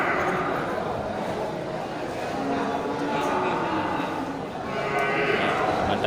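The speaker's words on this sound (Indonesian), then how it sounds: "Mantap ya, sapi jenis sapi Simmental Black." Simmental Black cattle at a busy livestock market, heard as a dense crowd murmur with people talking and faint low lowing from animals under the steady bustle.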